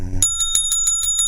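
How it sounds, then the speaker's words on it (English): A bicycle bell rings rapidly and loudly, about six quick bright dings in a steady rhythm after a brief low rumble, close and alone. "Missed the bell."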